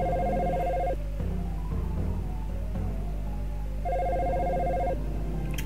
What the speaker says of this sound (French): Mets la ligne en attente, le téléphone continuera automatiquement d'appeler.